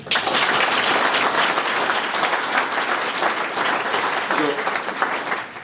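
A crowd applauds for a speaker's wife during a guest of honor presentation, dense sustained clapping filling the whole stretch at even loudness, with faint voices beneath.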